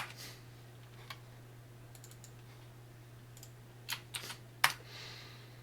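Keys tapped on a computer keyboard while entering an SSH command: a few sparse, faint clicks early on, then a quicker cluster of keystrokes near the end, over a steady low electrical hum.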